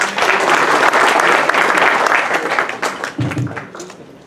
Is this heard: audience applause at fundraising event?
yes